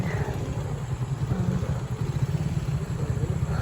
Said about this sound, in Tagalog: Yung mga nakikita niyo motor, ay mga habal-habal.